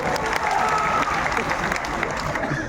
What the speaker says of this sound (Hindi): आप देखिए लोग कितना जोर से ताली बजा रहे हैं